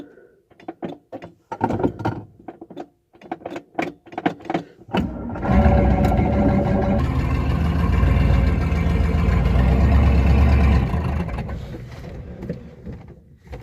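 A 1964 Cadillac Fleetwood opens with a string of sharp clunks and thumps, then the starter cranks the engine in a loud, steady grinding churn for several seconds without it catching, before stopping.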